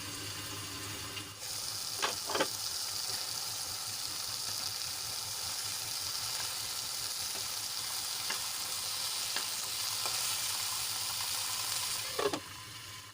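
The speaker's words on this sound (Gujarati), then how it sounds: "ટાંકીને આપણે એને ચડવા દેવાના છે" Tomatoes cook covered in a pan for tomato chutney, giving a constant, even sizzle close by with a few faint clicks and taps and no talking.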